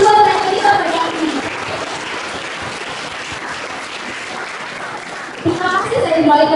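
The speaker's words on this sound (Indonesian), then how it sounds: "Tepuk tangan sekali lagi untuk kedua orang kita berkati." An audience claps steadily after a presentation on a Hela Keta wedding ritual, with voices talking over the start and end of the applause.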